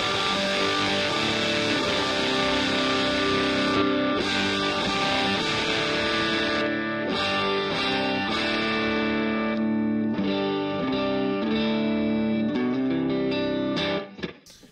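Electric guitar playing continuously through EQ and bloom pedals, compressed and swelling with a lush, smeared sustain and some distortion, loud and close.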